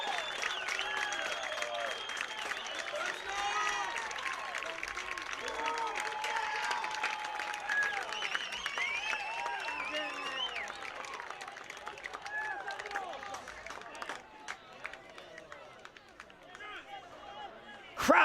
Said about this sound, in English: Crowd erupted.